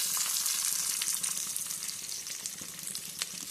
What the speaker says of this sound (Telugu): కొంచెం ఫ్రై కానివ్వండి.